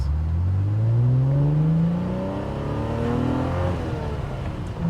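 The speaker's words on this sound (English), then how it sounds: "The wonderful thing about the engine is you're hearing the engine." A 1991 Alfa Romeo Sprint Zagato engine running and revving, its rising and falling tone climbing steadily through the gears, heard fairly close with little exhaust note and no talk.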